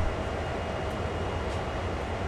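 A train in the Train Sim World video game gives off a steady, even rolling rumble with broadband noise, constant in level with no breaks or speech.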